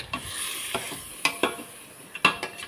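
Mutton chops being stirred in a pan, with a soft background sizzle and several distinct sharp scrapes and clanks of the spoon against the metal at irregular intervals, no voices.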